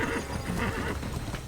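A horse in the video game Assassin's Creed neighs in one short, loud whinny with a faint clop of hooves beneath it.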